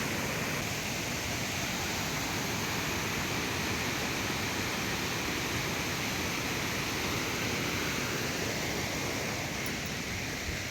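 Loud, steady rushing of a waterfall at Valparai during the monsoon season, a dense continuous roar of falling water holding close and unbroken with no voices.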